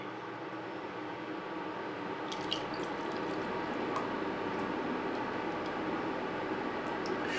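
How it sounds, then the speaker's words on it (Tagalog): Coconut milk pours into a cooking pot for ginataang monggo with pork, a soft steady liquid wash and trickle with faint drips, continuous and fairly quiet without talk. "At isusunod ko na dito yung gata."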